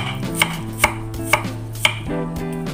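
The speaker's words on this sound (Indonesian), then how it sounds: "Jadi cukup bawang merahnya yang kita iris." Shallots being sliced with a knife on a cutting board, four sharp, evenly spaced chops ringing out clearly over quiet background, with no voices.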